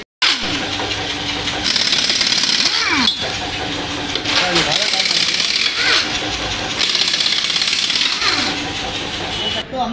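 A mechanic works on a Suzuki Ertiga's wheel and bearings, with loud, close, rattling bursts of a power tool in several long runs separated by brief pauses.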